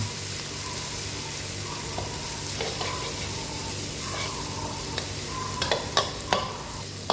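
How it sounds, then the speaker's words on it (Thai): Oil sizzles steadily as pounded garlic and fresh chili are stir-fried in a pan, with scattered sharp pops and clicks of a utensil near the end. "น้ำมันร้อนเราก็จะใส่กระเทียม กับพริกสดที่เราโขลกไว้ ลงไปผัด ให้เหลืองหอม"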